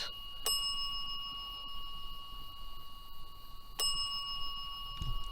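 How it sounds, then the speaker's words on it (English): A bell rings in two sharp, bright strikes a few seconds apart over steady background hiss in a cemetery; each ring is loud and clear with a lingering metallic tone. "As you can hear, this thing is going off like crazy."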